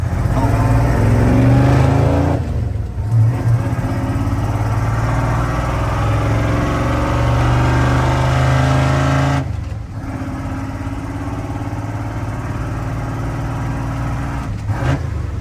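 A truck with a coolant thermostat fault (P0128 code) that had lost its antifreeze roars steadily while driving, its pitch rising and falling, with brief dips as gears shift.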